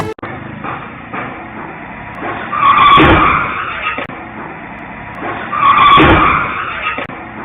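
CCTV-recorded road noise from Kannamangalam in Tiruvannamalai district, where a car struck a college student walking at the roadside, with a loud tyre screech and rushing car noise; the same skid sound occurs twice over steady traffic hum.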